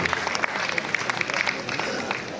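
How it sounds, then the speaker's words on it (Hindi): A mushaira audience in New Delhi applauds the honoured guest Farhan Wasti Sahab, a thick, continuous wash of clapping with a voice faintly carrying above it. "एक बार पुरजोर तालियां जनाब फरहान वास्ती साहब।"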